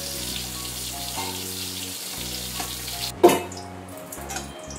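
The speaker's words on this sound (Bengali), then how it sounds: "পটলগুলো কিন্তু আমার বেশ ভালো করে ভাজা হয়ে গেছে" Oil sizzles steadily as pieces of pointed gourd fry in a pan, with a steady hum underneath and a sharp clatter partway through.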